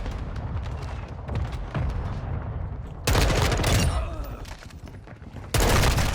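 Gunfire in the video game Call of Duty: Modern Warfare II cracks out in loud bursts, quieter shots at first, then two sharp, close volleys that cut in abruptly, with no talking.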